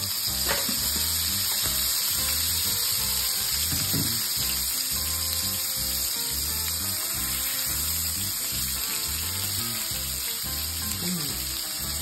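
Goat steak frying in olive oil in a pan, a steady dense sizzle and crackle running the whole time, close and loud, with occasional faint clinks and no talking.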